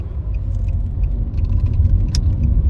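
A steady low rumble of road noise inside a moving 2014 Nissan Sentra S with a CVT, with faint rattles and a few light clicks over the continuous drone.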